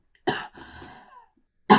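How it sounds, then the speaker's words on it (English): One person coughs up close indoors, a sharp burst followed by a raspy, breathy trailing exhale, then a second abrupt cough after a short pause. "I need to cough 1 second."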